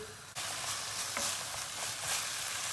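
Tomato paste sizzles and fries in a hot pan while it is stirred. The steady crackle is close and loud, and it carries on without pause.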